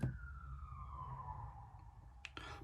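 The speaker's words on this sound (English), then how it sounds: "police siren." A police siren sounds outside, a single falling wail drifting at moderate distance over low background rumble, with a brief noisy burst near the end.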